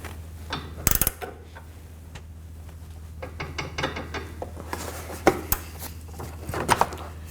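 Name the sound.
wrench and Allen bit tightening a sway bar link fastener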